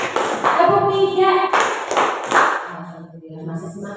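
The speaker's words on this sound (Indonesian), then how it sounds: "Coba tepuk 1, tepuk 2, tepuk 3." Group of teachers at a school positive-discipline workshop clapping hands in set rhythmic patterns, a short run of claps followed by another, with voices and room noise mixed in.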